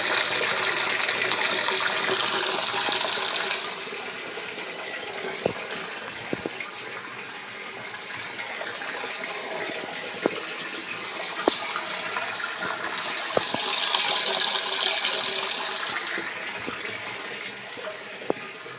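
Water gushes from a tap at home after the water pump motor is switched on, a steady rushing flow that swells at the start and again later, with occasional clinks of metal utensils being filled.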